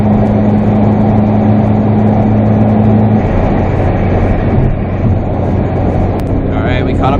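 A car engine and exhaust rev and pull hard while chasing another car during a race, a loud steady drone with a pitch drop partway through as the gear changes, joined by a voice talking over it.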